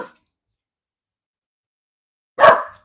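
A dog lets out a single short, loud bark at the neighbours next door after a long silence, with a faint clipped sound at the very start.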